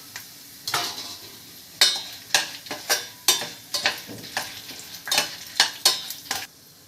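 Peanuts and chana dal fry in oil in a pan for lemon rice, a soft sizzle under a brisk series of roughly a dozen scraping, clattering stirs of a spoon against the pan, close up with no voices.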